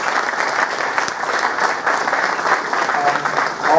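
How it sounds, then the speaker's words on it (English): Hearty applause from an audience for the winners at a Smart India Hackathon event, a loud, continuous clatter of many hands that holds steady throughout. "A big clap for all of them."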